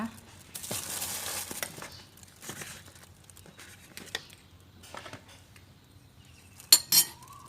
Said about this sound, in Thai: แล้วเราก็โขกเขาให้ละเอียดอีกครั้งหนึ่งนะคะ